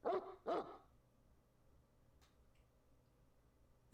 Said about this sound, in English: I heard a dog bark